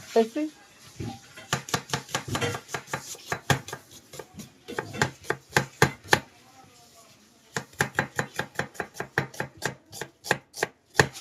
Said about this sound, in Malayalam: സവാള അരിയുവാ